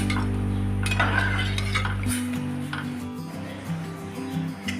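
Mung beans, rice and water being stirred together in a pressure-cooker pot, with a steady scraping and sloshing of the spoon against metal over a continuous low hum.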